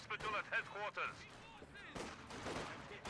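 In Company of Heroes 2, Soviet conscripts fight off German Grenadiers: sharp bursts of rifle and machine-gun fire crackle in the middle distance while someone talks over the combat.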